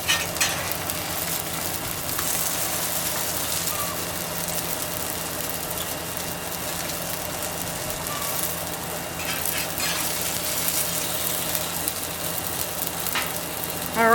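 Taro fritters fry on a hot griddle, giving a steady, loud sizzle and crackle that carries on without pause, with no talking over it.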